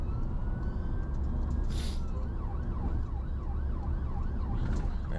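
Ambulance siren on a busy UK motorway, its wailing sweep rising and falling over heavy, constant traffic roar, moderately loud and partly buried in the road noise.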